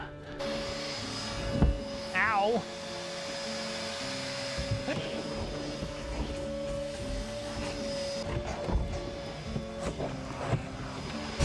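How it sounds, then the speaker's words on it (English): A vacuum cleaner runs steadily while cleaning out the interior of a cheap project truck, a continuous drone with bumps and knocks as the nozzle moves around, and a brief exclamation from a person partway through. "now it's time to give this thing a good another solid vacuum out"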